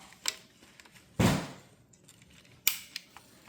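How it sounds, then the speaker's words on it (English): A spring-loaded salt gun used against bugs is dry-fired up close: a few sharp mechanical clicks and one louder snap of the firing mechanism, isolated against a quiet room. "I'm going to go ahead and fire this off one more time"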